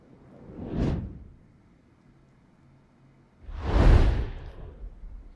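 Two whoosh sound effects sweep past, a short swish near the start and a fuller, louder rush a few seconds later, each rising and fading quickly with quiet between them.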